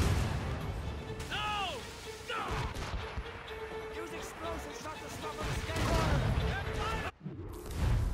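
Ship cannons firing during a naval battle in Assassin's Creed Rogue, heavy booms and crashes amid constant sea-battle noise, with crew voices shouting over them.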